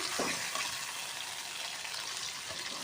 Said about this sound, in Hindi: और अब इसके साथ मैं इसको फ्राई करूँगी